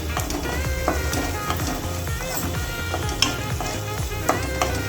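Masala sautéing in hot oil for an okra (vendaikai) gravy, a continuous crackling sizzle punctuated by repeated scraping stirs and occasional sharp clicks of a utensil against the pan, close and steady with no talking.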